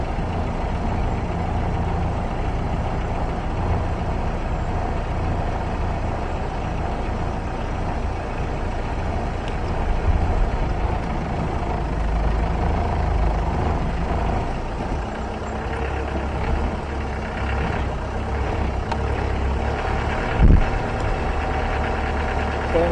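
Vehicle engine droning at low speed while driving slowly through thick bush, a steady close rumble with occasional creaks and knocks, and a voice speaking faintly beneath it.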